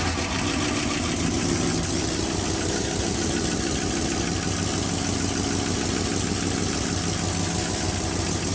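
A 1974 Leyland P76 V8 runs steadily at idle with no throttle, a continuous close, loud engine rumble with a fast, even firing pulse lasting throughout, with no talk over it.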